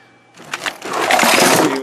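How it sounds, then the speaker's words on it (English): A vintage compact computer keyboard is dropped: a brief clatter, then a loud, broad, rattling crash that lingers and stays full to the end. "I just dropped another compact keyboard."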